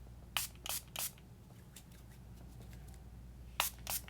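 A hand sanitizer spray bottle gives three quick hissing bursts in a row, then after a pause two more, close and crisp against a quiet background.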